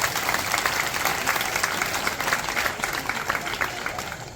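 An audience claps steadily throughout at the 18th anniversary festival of a temple ashram in Bhada, Surat, a dense, even applause filling the whole space.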